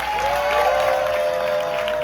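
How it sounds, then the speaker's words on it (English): Audience applause at a film premiere, a brief steady wash of clapping from a crowd at close range with a faint tone running underneath. "Let's give a big round of applause to my producer"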